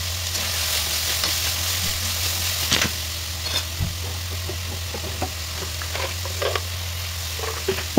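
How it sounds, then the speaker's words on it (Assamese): Onion, tomato, green chili and spices fry for a mushroom curry with a soft, steady sizzle and occasional stirring clinks over a low background hum. "অলপমান ভাজি ল'ব লাগিব।"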